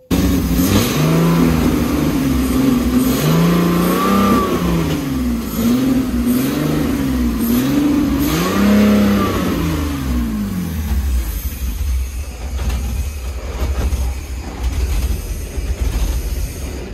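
A BMW E30 with an M54B30 3.0-litre engine revs repeatedly as the accelerator pedal is pressed, engine note rising and falling in several close, loud sweeps before settling into a steady idle.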